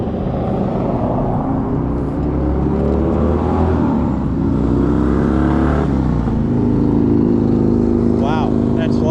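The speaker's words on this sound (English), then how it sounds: "Wow, that's loud motorcycles." Loud motorcycles roaring past on Keystone Road beside a Florida trail, engines droning and revving steadily close by, rising toward the end, with a voice speaking over them.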